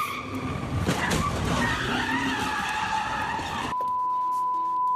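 A car's tires squeal in a loud, sustained skid as it speeds away from a smash-and-grab heist on a New York City street, ending abruptly in near silence.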